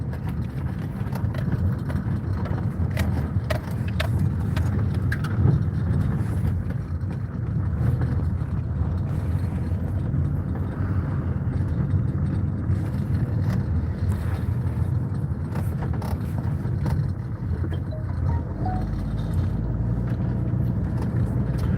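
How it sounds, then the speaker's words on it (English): A car drives up a street in Jamaica, its steady engine rumble and road noise continuous and close, mixed with wind buffeting and faint scattered clicks, with no talking. "Yeah man, driving up West Street"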